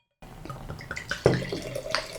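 Dark lager beer poured into a glass, a close, trickling liquid stream with gurgling splashes and small bubbly drips building as the glass fills.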